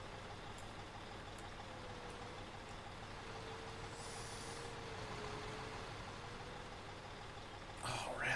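A truck engine idles with a steady low rumble in Construction Simulator 2015, a faint whining tone drifting over it, ending in a louder burst of noise like an air brake hiss.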